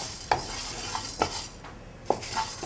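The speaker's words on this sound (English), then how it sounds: "You're going to dry roast these and then grind it to a nice fine powder." Whole cumin seeds and about 20 peppercorns are dry roasted in a pan, giving a quiet scratchy rustle with a few sharp utensil clicks against the pan, spaced irregularly.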